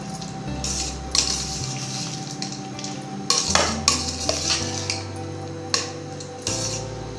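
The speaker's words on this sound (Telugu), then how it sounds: "ఉప్పు వేసుకొని ఒకసారి కలుపుకుందాము." A spoon stirs salt through mango pulihora rice in a metal pan, steady scraping and clinking strokes over a low background hum, close and fairly loud.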